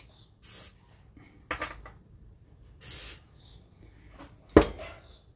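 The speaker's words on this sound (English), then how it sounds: "good idea to spray it, a bit of Inox into the threads." Inox lubricant sprayed from a can into the threads of a Heiniger Cyclone shearing handpiece during a rebuild: several short, soft hissing bursts spaced a second or so apart, with faint metallic clicks in between and no talk.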